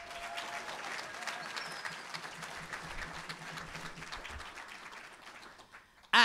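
An audience at a college music evening claps and cheers for the event organisers, a sustained fairly faint round of applause with no talk over it, tailing off before a sudden loud burst at the very end.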